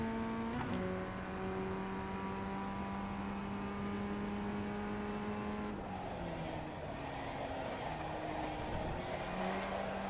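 Formula Ford FF1600 race car in the iRacing sim at full speed, a steady high-pitched engine drone holding near the redline, then dropping and climbing again through gear changes, loud and continuous with no talk.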